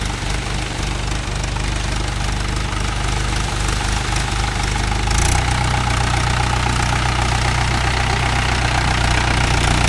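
A Mahindra 575 DI tractor engine runs steadily close by, a loud, dense diesel drone with a rough knocking texture that thickens slightly midway through, during cage-wheel work in a muddy rice field.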